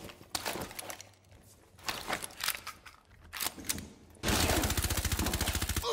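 Gunfire from players in an online video game: scattered single shots and bursts early on, then a loud, rapid, evenly pulsing machine-gun burst for the final couple of seconds.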